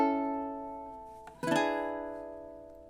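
Quiet ukulele chords from a song ring out, one strum fading, then a quick brushed strum and a fresh chord around the middle that sustains and decays, played alone and close.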